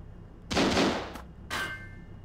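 Two loud gunshot bursts from the Silent Storm Sentinels video game, the first longer and heavier, the second a shorter crack about a second later with a ringing tail, over a quiet background.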